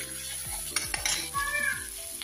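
Bottle gourd (lau) sizzles in a hot pan while a utensil stirs it, with soft scraping strokes over a steady frying hiss, close by, over quiet background music.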